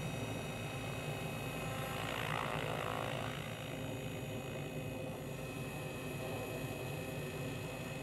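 A small RC helicopter fitted with a Spirit GeoLink unit hovers steadily, its rotor and motor whine droning continuously at moderate distance with slight shifts as it corrects itself.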